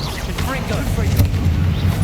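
A booming Confringo spell explosion in the Hogwarts Legacy video game, a deep, heavy rumble rolling through a busy combat mix while a voice speaks over it.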